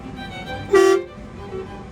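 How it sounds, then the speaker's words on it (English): A truck's air horn gives one short, loud blast of about a quarter second inside the cab during a pre-trip inspection, standing out against a steady low background hum. "Then you have the air horn, which is this."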